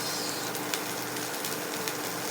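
Onions dropped into a hot pan for a Filipino home-cooked dish, giving a steady, close hiss of sizzling oil with faint crackles and no talk.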